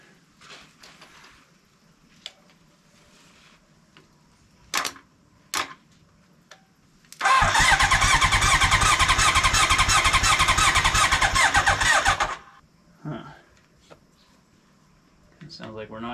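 A 1980 Honda CB900 motorcycle engine, on a custom lawnmower trike that sat for years, cranks on a jump starter with choke for about five seconds without catching: a loud, rapid, even churning, then it stops, with a voice speaking briefly after.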